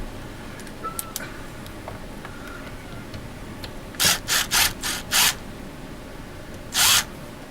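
Cordless power tool drives screws during repairs on a 1996 GMC, several short whirring bursts in quick succession followed by one more after a pause, amid faint clicks and handling noise.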